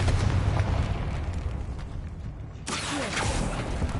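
Confringo fire spell cast in Hogwarts Legacy inside a tomb, a sustained rumbling, crackling blast that swells into a fresh burst of debris and roar partway through, with no talking.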